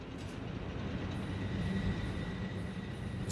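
Trains run in the factory-building game Satisfactory, a steady loud rumble of rolling wheels with faint squealing and clatter, continuous and close, with no talking.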